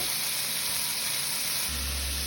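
Crayfish sizzle in a hot pan, a steady broadband hiss with crackle that holds without pause from start to end, close and moderately loud, with no voices.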